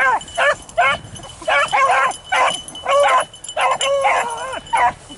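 A puppy barking outdoors near a fence, a rapid series of high yipping barks in short bursts with brief pauses, close and loud.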